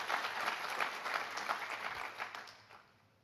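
A church congregation at an Indonesian anniversary worship service breaks into loud, even clapping that fills the room, holds steady for several seconds, then tapers off toward the end.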